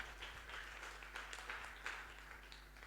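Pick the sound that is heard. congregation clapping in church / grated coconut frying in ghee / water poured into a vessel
congregation clapping in church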